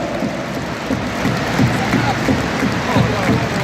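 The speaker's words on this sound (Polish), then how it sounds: "Wszyscy, cały stadion klaszcze!" Football stadium crowd of supporters clapping together before a Jagiellonia Białystok versus Pogoń Szczecin match, a dense, steady wash of applause and crowd roar with rhythmic claps faintly audible throughout.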